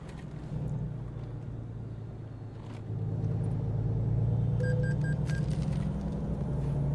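A heavy truck engine in the American Truck Simulator driving game drones steadily on the open road, its low rumble swelling louder about halfway through, with a few short electronic beeps near the end.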